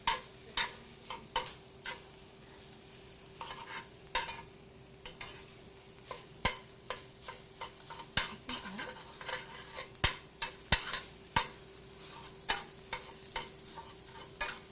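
Lean ground meat frying in a pan while a utensil breaks it up, giving a soft continuous sizzle under frequent scraping and tapping strokes, close and steady, with no talking.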